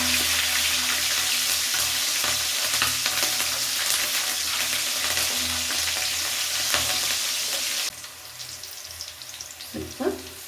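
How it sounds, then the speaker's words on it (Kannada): Green chilies sizzle and crackle in hot oil for avarekalu upma, a dense, loud frying hiss that runs continuously before dropping abruptly to a quieter sizzle near the end. "ಇವಾಗ ನಾನು ಮೆಣಸಿನ್ಕಾಯಿನ ಹಾಕ್ಕೊಳ್ತೀನಿ ಇದಕ್ಕೆ."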